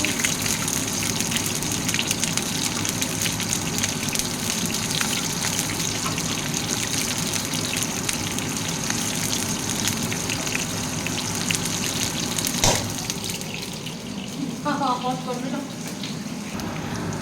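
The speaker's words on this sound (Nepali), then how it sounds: "अनियन गोल्डन ब्राउन भइसकेपछि चाहिँ म अलिकति यो हरियो खोर्सानी अलिकति फ्राई गर्छु।" Green chillies fry with golden brown onions in a pan for a potato chilli dish, a steady, dense sizzle and crackle running throughout, with a brief clatter and faint voice near the end.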